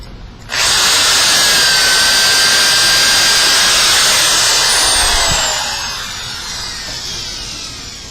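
A power drill bores holes in a wooden board held in a hole centering jig, starting abruptly with a loud, steady high whine that eases off near the end, close and alone.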